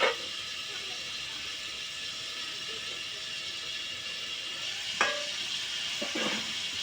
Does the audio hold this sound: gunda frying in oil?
yes